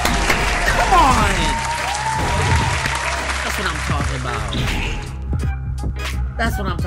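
Applause sound effect in the asymmetrical horror game Video Horror Society, a continuous crowd clapping that runs for several seconds under excited, overlapping player talk.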